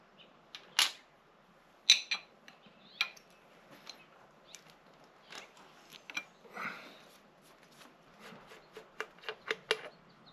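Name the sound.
wrench removing valve caps on Honda 400EX engine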